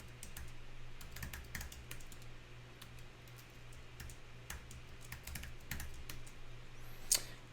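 Password being typed on a computer keyboard, a steady run of quick, light keystrokes at close range with an even rhythm and no talking.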